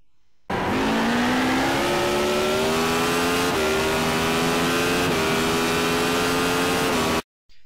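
A Radical SR8 race car engine screams at full throttle in iRacing, a loud continuous high-revving howl climbing steadily with brief dips at gear changes, then cutting off abruptly.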